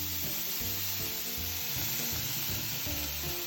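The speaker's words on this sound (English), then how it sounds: "you should hear that nice good sizzle" Steady, loud sizzling of meat searing in a hot pan, a continuous crackling hiss with occasional stirring or scraping noises, no voices.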